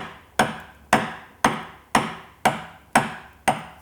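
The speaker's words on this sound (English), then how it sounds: "I'll maybe do a few more vertical chops just to ensure I've gone down to the full depth of the hinge" Chisel struck with a mallet, chopping vertically into wood to cut a hinge recess: seven sharp, evenly spaced knocks about half a second apart, close and clear with no speech.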